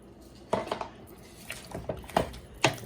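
Pieces of pork drop into a pot and are stirred with a metal utensil, giving several close, wet clanks and scrapes against the pot with short pauses between them and no talking.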